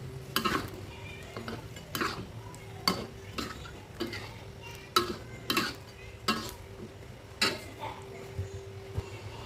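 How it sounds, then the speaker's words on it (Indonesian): A utensil scrapes and knocks against a pan in irregular strokes while stirring chicken with spices, with a soft sizzle underneath and a faint steady hum. "kita aduk kembali bumbu dengan ayam"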